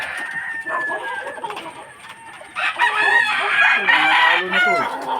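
Gamecock roosters on a fighting-cock farm crow repeatedly, several long crows overlapping and rising in loudness toward the end, with clucking and farmyard bustle beneath.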